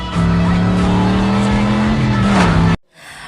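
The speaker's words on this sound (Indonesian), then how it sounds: "langsung OTW dengan mobil kerennya itu dan gak ketinggalan. Ngepot dulu." A car drifting in an action film, its engine holding a loud steady drone while the tires squeal throughout, ending in an abrupt cut to near silence.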